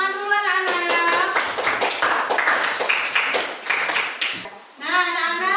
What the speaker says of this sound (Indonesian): silakan tepuk tangan dulu anak-anak